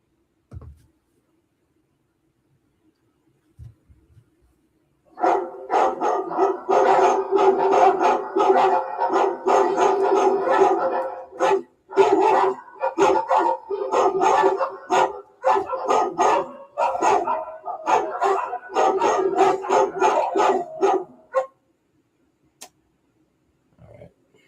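A dog barks loudly and repeatedly in rapid bursts, with a few short breaks, close to the microphone, after a quiet opening.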